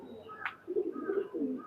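A pair of pigeons, Fakirgul male and Kamagar female, coo up close in several short throaty rolling bursts, with a brief sharper chirp near the start.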